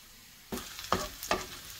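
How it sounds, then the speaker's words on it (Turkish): Radish, onion and pepper sauté in a pan for a Black Sea style radish kavurma, giving a soft sizzle broken by three distinct stirring scrapes, quiet and close. "Soğanla biber gördüğünüz gibi sarardı. Sotelendiler. Yakmadan hemen turpları ilave ediyoruz üzerine."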